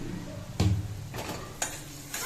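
Cumin, ginger paste and ground spices being lightly fried in a pan, a low steady sizzle broken by a few sharp scraping stirs of the spoon, close up and without talk.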